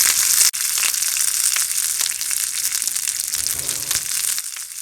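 Jalapeno and curry leaves with mustard seeds sizzling in hot oil, a loud bright hiss that flares sharply at the start, then settles into steady crackling and spitting, close with no talking.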